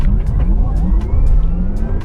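Porsche Taycan electric car launching in Sport Plus launch control: a loud, continuous rising electric whine with climbing tonal layers over a low road rumble, lasting about two seconds.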